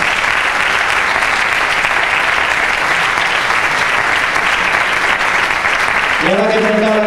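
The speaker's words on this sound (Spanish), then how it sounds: "un aplauso para esos voluntarios que los necesitamos" Sustained, dense applause from an audience thanking volunteers at a civic event in Cantabria, loud and steady throughout, with a voice starting to speak over it near the end.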